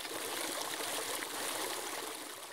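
A small stream or waterfall in a dried-out landscape, nearly gone: steady, soft trickling and splashing water, continuous and fairly close, with no voices.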